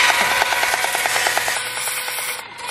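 A sander works cured resin on a surfboard ding repair, giving a close, rhythmic abrasive rubbing that repeats in quick strokes and then thins toward the end.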